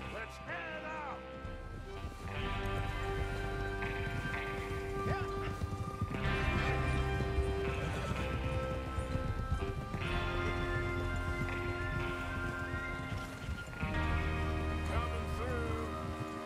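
Horses gallop in Red Dead Redemption 2 as a gang rides out for a train robbery, a steady clip-clop of hooves running under a loud, continuous musical score.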